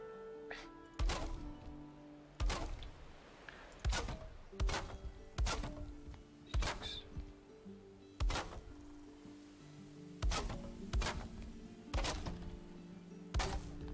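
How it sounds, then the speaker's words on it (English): Chopping wood in the video game Valheim: a steady series of about a dozen sharp, heavy axe thunks on a tree, evenly spaced about a second apart, each ringing briefly over a soft background. "so we gotta do some chopping now"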